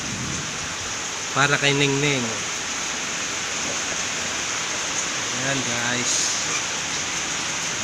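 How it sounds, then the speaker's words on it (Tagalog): Heavy rain pours on a rainy morning, a constant broad hiss that fills the whole stretch, while a person talks briefly over it twice. "lakas ang ulan guys"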